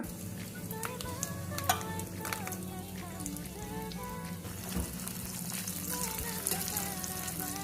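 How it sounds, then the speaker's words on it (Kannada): Cumin, asafoetida and cashews fry in a pan for Mysore-style bisi bele bath, with a continuous close sizzle and crackle and the occasional scrape of a stirring spoon. "ಫ್ರೈ ಮಾಡ್ಕೊಳ್ಳಿ ಚೆನ್ನಾಗಿ"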